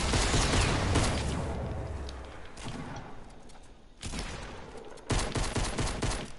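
Video game gunfire erupts in rapid bursts, a dense volley at the start, then sharper renewed bursts after pauses, loud and close with no clear talking.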